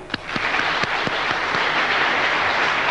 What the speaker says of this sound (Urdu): ایک دفعہ بارپور خلوص سے دل سے تالیاں